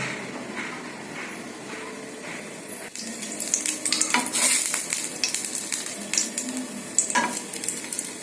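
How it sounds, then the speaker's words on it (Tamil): Chana dal drops into hot oil: a quieter crackle with faint clinks gives way to a loud, dense sizzle, with the spoon scraping and stirring the lentils through the frying. "எண்ணெய் காஞ்சிடுச்சு, கொஞ்சம் கடலைப்பருப்பு போடுறேன்"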